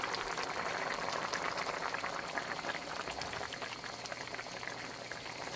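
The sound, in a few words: halibut fish curry simmering under the lid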